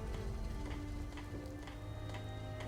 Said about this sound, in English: because the rain's coming straight in